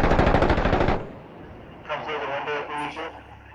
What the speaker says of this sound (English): There's more shots.